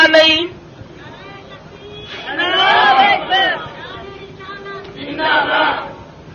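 A crowd at a religious gathering chants slogans in loud rhythmic bursts, a short shout at the start and then two swelling waves of many voices, with quieter pauses in between.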